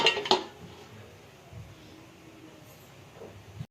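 A metal lid clanks onto a cooking pot with two quick clinks, followed by a low, quiet background hum.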